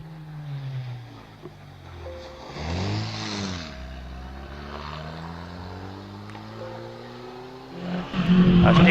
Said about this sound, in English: Sounds a little bit like a missed gear there for Stuart Rose in the Austin 7 Ulster